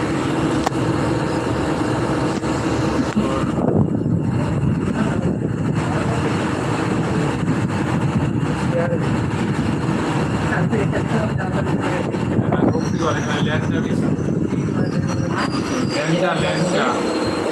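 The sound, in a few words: train ride from inside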